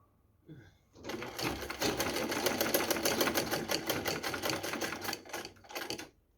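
A sewing machine runs fast and steadily for about five seconds, stitching a knitted neckband onto a school sweater, with a dense rattling hum that starts and stops abruptly. No one speaks over it.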